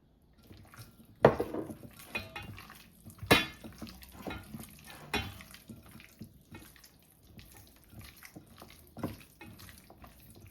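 Raw meat is mixed by hand with seasoning and a little oil in a bowl, giving soft wet squelches and clinks, including two sharper knocks, at close range in a quiet kitchen with no talking.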